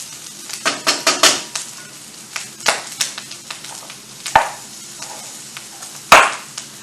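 Corn browning in a skillet, with a light sizzle under a series of sharp clicks and scrapes from stirring, irregular and close, with a louder clatter near the end.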